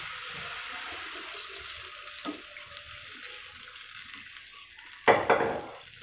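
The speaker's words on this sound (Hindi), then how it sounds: "मसाला हमारा भून चुका है। इसमें पानी शामिल कर लेते हैं।" Masala frying in a pan as water is poured in, a brief loud hiss and sizzle followed by continued bubbling, with faint stirring and tap water running earlier.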